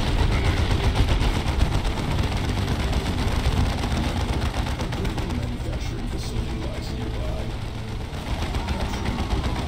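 Grenade blast amid sustained gunfire in the Warhammer 40,000 strategy game Dawn of War 2, a dense, continuous roar of machine-gun fire and explosions with no clear pause throughout.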